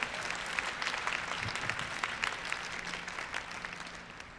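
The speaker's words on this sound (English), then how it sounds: "let's go ahead and give them a round of applause" An audience at an evening cultural performance applauds, dense continuous clapping from many hands in a hall, moderately loud and fading slightly toward the end.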